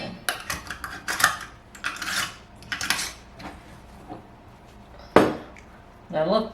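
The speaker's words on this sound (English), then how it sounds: "clean the edges, put on a lid and a ring." Spiced pears are being canned: a lid and ring go onto a glass canning jar, giving a string of close metallic clinks, taps and scrapes with short pauses between them.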